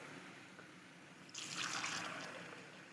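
A kitchen sink tap runs, starting partway through as a steady, close hiss of flowing water that continues to the end over a quiet room.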